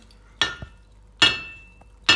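A steel spear head forged from leaf spring steel drops onto its handle under its own weight, giving three separate sharp metallic knocks, each ringing briefly before fading, with quiet gaps between.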